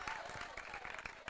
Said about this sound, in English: A round of applause to the artists.